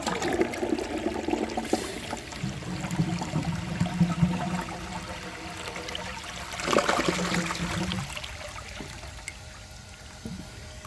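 A 1990 Universal-Rundle Atlas toilet flushes with a long, rushing gush of water that slowly fades into trickling refill.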